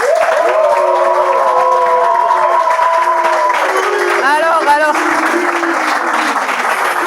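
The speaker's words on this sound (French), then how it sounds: "Junior, on peut applaudir bien fort." A crowd applauds the winner of a Bible quiz final, steady clapping filling the whole stretch, with sustained tones and rising voices over it.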